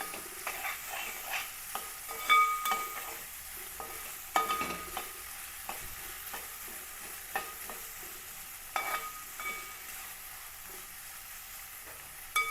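Beef fry cooks in a pan with a constant soft sizzle and frequent clinks and scrapes of stirring, moderately quiet and close, with no voices.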